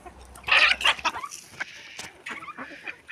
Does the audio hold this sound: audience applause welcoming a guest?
no